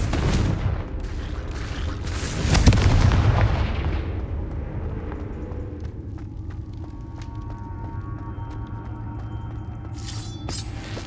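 Confringo fire blast spells exploding in the Hogwarts Legacy video game, heavy booming blasts in quick succession at the start, a big rumbling explosion in the middle, then crackling debris and a sharp burst at the end.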